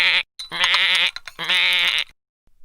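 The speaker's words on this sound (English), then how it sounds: "a bleeper hidden in your tie, which bleats like a sheep" A bleeper hidden in a necktie bleats like a sheep, giving two loud, buzzy, wavering electronic bleats, each around half a second long, close and clear with a brief gap between.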